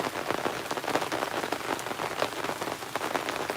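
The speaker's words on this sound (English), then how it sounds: "I'm sorry, guys, but it's raining" Steady rain patters on surfaces around an outdoor gold sluicing setup during prospecting, a dense even wash of drops heard close and alone.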